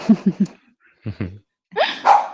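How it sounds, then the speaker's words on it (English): A puppy barks in a quick burst of three short yaps, then two more, then a higher whining bark, close and clear against silence between calls. "That's my puppy."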